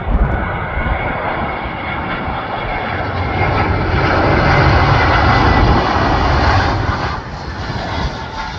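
An Airbus A320-200 airliner landing at Canberra International Airport gives a loud, steady jet engine roar that swells and holds, then eases slightly near the end, with no voices.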